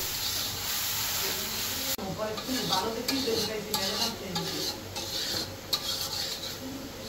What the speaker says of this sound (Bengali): মশলাটা একটু ভালোভাবে কষানো হবে